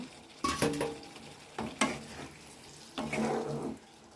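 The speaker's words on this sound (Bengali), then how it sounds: "মটরশুঁটিগুলো দিয়ে দেব এবার ডিমগুলো দিয়ে দেব" Peas and then eggs go into a frying pan with potatoes, giving three short bursts of sizzling and stirring, each rising sharply and fading, close by with no talk.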